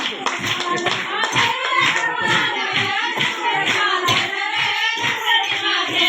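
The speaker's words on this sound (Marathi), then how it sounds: "सर्वांनी टाळ्या वाजवा." Hands clap steadily and together from an audience at a village function, the opening of a tribal foundation's branch in Shinganwadi, with a voice speaking over the applause throughout.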